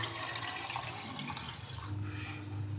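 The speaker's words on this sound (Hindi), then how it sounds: "अब हमने ये चारों दाल ले ली हैं और इसके अंदर हम ऐड करेंगे पानी" Water is poured into a bowl of four mixed lentils for a dhaba-style mixed dal, making a steady, close rushing splash that shifts to a lower, fuller gurgle as the bowl fills, with no talking.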